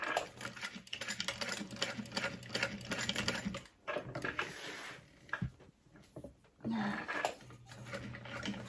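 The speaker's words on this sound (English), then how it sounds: "we're top stitching 1/8 of an inch from the folded edge to create that fun top stitch" A domestic sewing machine top stitching a cross-body sling bag an eighth of an inch from the folded edge, running in close, rapid mechanical bursts with brief pauses between runs.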